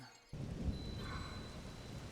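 Thunder and rain in The Legend of Zelda: Tears of the Kingdom on the Thunderhead Isles, with a sudden low rumble breaking in after a quiet start and a steady wash of rain continuing behind it.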